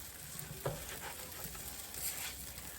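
Food sizzling on a hot griddle, a soft, steady frying crackle heard fairly faintly with a few small taps and clinks mixed in, and no talk over it.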